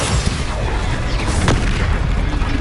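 A Confringo blasting spell detonates in Hogwarts Legacy, a dense, loud booming burst that fills the whole stretch with rumbling, crackling energy and a sharper flare near the middle.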